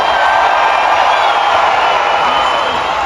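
A large crowd at a monster truck glow party in Leeds roars and cheers continuously, a loud, dense, sustained wash of voices with no breaks.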